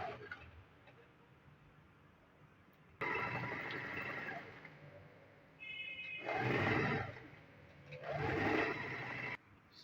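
A sewing machine stitches a half-inch seam in fabric for wrap trousers, running in two or three bursts of a few seconds each, with quieter handling sounds between runs.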